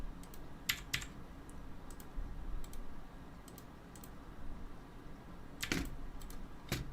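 Keystrokes on a Tsunami MK61 Pro mechanical keyboard with swappable switches: sparse clicky taps, some in quick pairs and short bursts, close and fairly quiet over a low background hum, with no talking.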